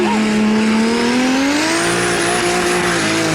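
A pulling tractor at a tractor-pull event at an agricultural fair, its engine roaring loud and continuous as it starts down the track, the pitch climbing steadily as it pulls away.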